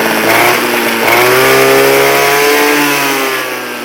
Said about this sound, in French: Les éternelles vibrations des Magnum Racing.